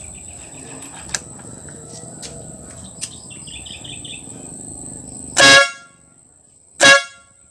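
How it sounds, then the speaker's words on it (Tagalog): A compact dual horn on a motorcycle sounds two short, loud honks about a second apart, cutting over faint insect and bird background noise with a few small clicks before. "tatestingin na po natin kung gagana na siya yung ating compact horn"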